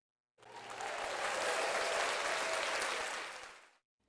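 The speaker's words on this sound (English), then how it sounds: "Round of applause, man." A steady burst of group applause swells in, holds for about three seconds and fades out, heard alone with no voices over it.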